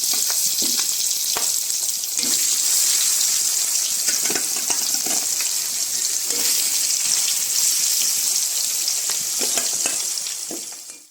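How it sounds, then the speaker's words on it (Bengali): Fish pieces, rubbed with salt and turmeric, drop one by one into hot oil and fry with a loud, continuous crackling sizzle, near and without talk, fading out at the end. "তেল গরম হয়ে গেছে আমি এবার একে একে মাছগুলো দিয়ে নিচ্ছি"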